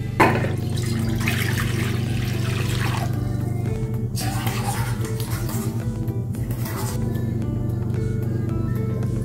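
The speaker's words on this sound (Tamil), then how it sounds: "இப்போ இதை லைட்டாக தண்ணி ஊற்றி வேக வச்சுக்கலாம்." Water pours over peeled sweet corn in a cooking pot to boil it: a steady rushing, splashing stream that runs throughout, set against a continuous droning tonal background.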